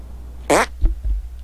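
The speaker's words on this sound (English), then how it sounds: "Make your fart detonate behind me." In the South Park: The Stick of Truth video game, a single loud, wet fart detonates, followed by a couple of dull thuds, with no voices.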